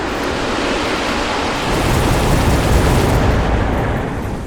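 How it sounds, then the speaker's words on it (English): A missile strike explodes in the mech strategy game Mechabellum, a dense, sustained roaring blast of rumbling noise that swells slightly midway and holds loud for several seconds with no talk over it. "And then I throw down a missile."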